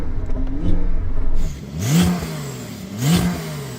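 An 800hp Porsche 911 Turbo S revs twice in a stationary sound check, two loud rising-and-falling engine blips following a lower idle, close by with no talk.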